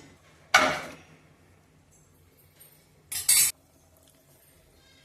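Two short bursts of a metal spoon scraping and clinking in a pan of quail fry with tomato, separated by a quiet gap.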